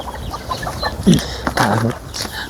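Chickens clucking at feeding time on a small farm flock of ten to twenty birds, with a few short, close clucks and squawks over a low background.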